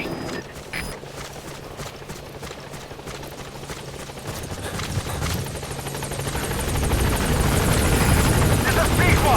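Support helicopter in Metal Gear Solid V approaching a landing zone, steady rotor chop that builds louder toward the end, with radio voice over it.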